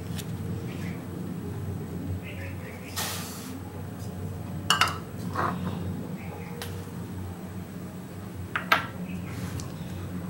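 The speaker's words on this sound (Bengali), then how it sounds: "আমি সমস্ত উপকরণগুলোকে এই পাত্রটার মধ্যে ঢেলে ফেললাম।" Ingredients for Bengali Ananda Naru, including jaggery, are poured into a bowl. Brief hissing rushes of falling material come with a few light clinks against the vessel, heard close over a steady background hum.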